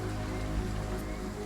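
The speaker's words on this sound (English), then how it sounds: "we've got contaminated rain as well" Contaminated rain falls steadily in the post-apocalyptic game Endzone - A World Apart, a faint constant patter with no voices.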